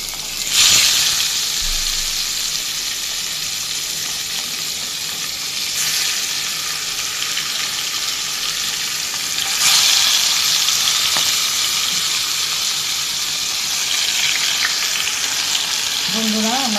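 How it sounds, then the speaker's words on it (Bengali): Large pieces of fish fry in hot oil for a spicy fish bhuna, giving a loud, steady sizzle for the whole stretch. It swells in brief bursts as the pieces are moved, with no talking. "আমার মাছ ভাজা হয়ে গেছে।"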